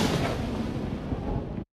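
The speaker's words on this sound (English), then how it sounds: "So all the impact layers sound like this combined." Layered magic cast impact sound effect combined at full frequency, a dense broadband roar with heavy low end that holds steady for under two seconds, then cuts off abruptly.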